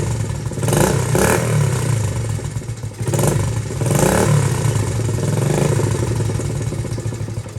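A warmed-up Honda XL70 motorcycle engine running close by, a steady clattering putter that rises briefly with a couple of revs, then settles back to a rough, even idle.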